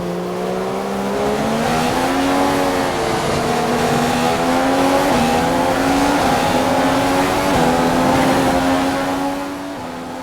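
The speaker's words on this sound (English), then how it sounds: "With a lock up there." Racing video game car at Australia circuit, a loud continuous engine whine climbing through the gears with rising, stepping pitch, and tires locking under braking amid the engine noise.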